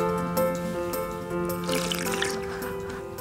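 Water being poured into a glass indoors in a home apartment, a short trickling fill with faint clinks, moderately quiet and close.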